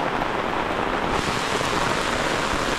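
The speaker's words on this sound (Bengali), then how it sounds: "কি জোরসে বৃষ্টিটা নামিয়েছে" Heavy monsoon rain pours down at Talberia Dam in Bankura, a loud, dense and unbroken roar of drops close by.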